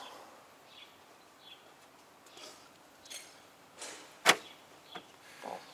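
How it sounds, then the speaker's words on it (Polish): A single sharp click of a VAZ (Lada) 2101 car door lock shutting stands out against quiet outdoor background, with a few softer faint knocks and rustles around it. "Słychać było, że zamek się zamknął jeszcze dla potwierdzenia."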